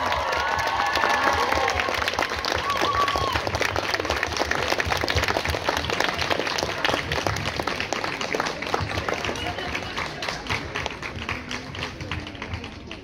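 Audience applause for the Chai Collective at a school first-of-September celebration, a dense, continuous roomful of clapping that holds steady for many seconds, with light crowd noise mixed in.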